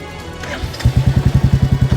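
A motorcycle engine catches after a quiet moment and settles into a steady, rhythmic thumping idle close by, with evenly spaced low pulses through the last second.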